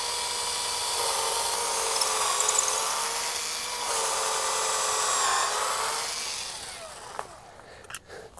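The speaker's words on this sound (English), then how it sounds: "drill a pilot hole in our timber" A power drill whines steadily as it bores a pilot hole into a wooden landscape timber, running continuously before slowing and stopping near the end, with a few knocks after.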